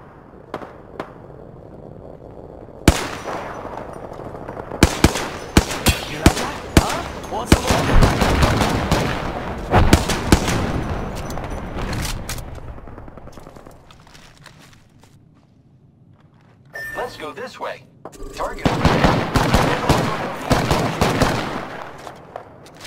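Apex Legends gunfire: bursts of rapid automatic shots and single cracks, loud and close, broken by quieter stretches with footsteps and a pause before another heavy volley.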